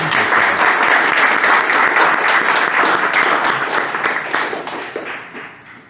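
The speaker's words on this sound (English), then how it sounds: "Wow, claps in the back too." Audience clapping at a live market talk event, including people at the back of the room, a full, steady round of applause that holds for several seconds before fading out.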